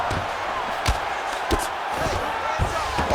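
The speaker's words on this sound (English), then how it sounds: "the crowd pops in appreciation as the fighters work their way back to the field" Arena crowd noise in the EA UFC 5 fighting game, a sustained roar of spectators with sharp thuds of strikes punctuating it, under a commentator's voice.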